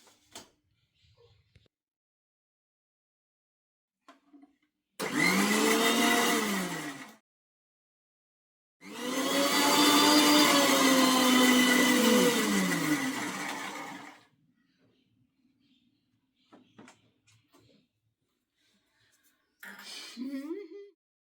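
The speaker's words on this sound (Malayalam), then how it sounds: "മഞ്ഞൾപ്പൊടിയും കൂടി ഇട്ട് നമുക്കൊന്ന് മിക്സിയുടെ ജാറിലിട്ട് ഒന്ന് ഒതുക്കിയെടുക്കാവേ" A kitchen mixer grinder whirs in two loud bursts, a short one and then a longer one, as its jar grinds fish with turmeric powder, with quiet handling noises before and after.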